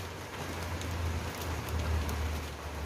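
Light drizzle falling outdoors, a soft, even patter of fine raindrops on a surface with a low steady rumble underneath, continuous and moderately close, no talking.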